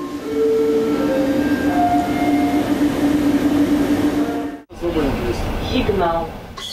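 High-speed Airport Express train on a roughly 50-kilometre rail link between city and airport, rumbling steadily with tonal whines under continuous talk, a brief dropout near the end before the rolling noise resumes.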